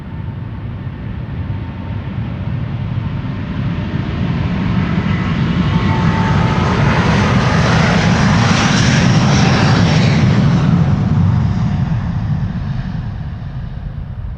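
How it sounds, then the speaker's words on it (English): The engines of a Delta Air Lines Airbus A330neo spool up at Amsterdam Schiphol Airport, a rising roar that swells loud and broad, peaks, then eases slightly while holding a strong, continuous rush. "Delta Airlines flight 243 to Boston, Massachusetts now spooling up. A330neo."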